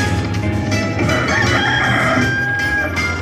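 A rooster crows over busy, jangling electronic slot machine chimes and music, the crow loud and clear across the whole stretch.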